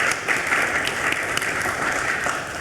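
Steady applause from an audience at a Board of Regents meeting, honoring the CRA team; a dense, continuous wash of many hands clapping at even loudness throughout, with no voices on top.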